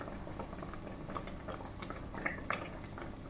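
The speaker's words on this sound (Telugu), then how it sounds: "ఇట్లాగా లో ఫ్లేమ్లో గోల్డెన్ కలర్ వచ్చే వరకు మనం వీటిని ఫ్రై చేసుకోవాలండి" Badusha sweets frying in oil over a low flame, a steady close bubbling and crackling hiss with small popping spatters and no voices.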